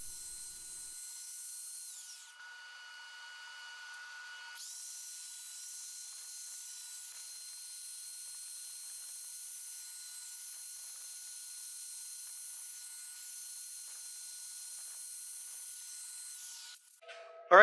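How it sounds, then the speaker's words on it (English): Power sanding a resin Easter egg on a lathe gives a steady, thin hiss with a faint high whine, broken briefly early on, before a clunk at the very end. "If I can power sand, I'm going to power sand."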